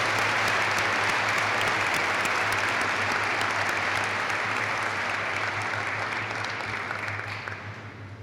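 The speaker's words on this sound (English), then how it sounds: "Let's have a round of applause for our Airmen of the Year nominees." Sustained applause from a ceremony audience honoring Airman of the Year nominees at an Air Force recognition event, a dense steady wash of many clapping hands that holds for several seconds and tapers slightly at the end, with a low hum beneath.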